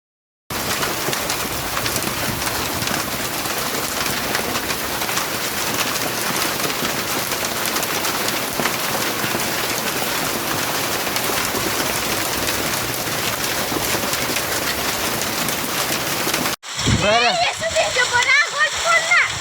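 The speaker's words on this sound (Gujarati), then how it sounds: "સેલવાસના ખાનવેર અને બેડપા સહિતના વિસ્તારોમાં કરા સાથે વરસાદ વરસ્યો હતો" Heavy rain with hail pounding down in Selvas, a dense, loud, continuous roar of rain and splatter that cuts off abruptly near the end, where a voice briefly begins speaking.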